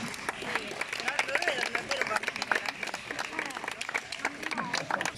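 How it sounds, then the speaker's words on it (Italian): An audience applauds Brando De Sica with steady, rapid clapping mixed with crowd murmur and voices. The applause holds a fairly even level throughout. "un applauso Brando"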